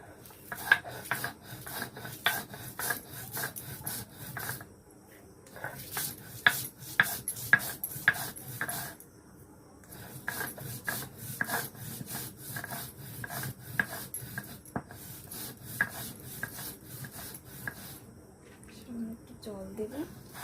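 Soaked peanuts ground into a paste by hand, a repeated rasping, scraping rhythm in long runs with short pauses, fairly close and moderately quiet, with a faint voice near the end.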